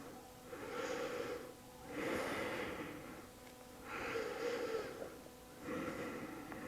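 Deep breaths during yoga practice, four slow, rhythmic cycles of audible inhaling and exhaling close to the microphone in an otherwise quiet room, each breath swelling and fading evenly.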